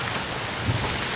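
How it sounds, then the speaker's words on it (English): Strong gusting wind buffets the microphone beside a lake, a steady broadband roar with no other distinct sounds. "Wind's getting real nasty."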